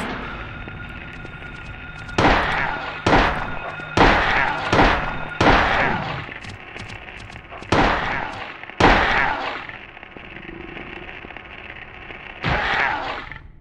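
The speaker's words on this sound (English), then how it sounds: "Gunshots." Gunshots in the video game Silent Hill, a series of sharp, loud bangs fired in irregular bursts over a steady low ambient drone, with roughly ten shots spread across the stretch.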